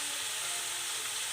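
Roasted cumin powder and masala powder fry in a hot pan for a cauliflower and potato curry, giving a steady, close, bright sizzle.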